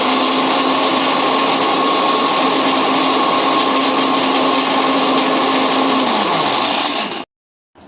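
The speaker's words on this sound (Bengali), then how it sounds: "এবার মিক্সির মধ্যে নারকোলগুলো সব দিয়ে দিচ্ছি, ব্যাস এইগুলো দিয়ে ভালো করে মিক্সিতে বেটে দেবো" An electric mixer grinder whirs steadily as it grinds coconut, a loud sustained motor whine that winds down near the end and then cuts off into silence.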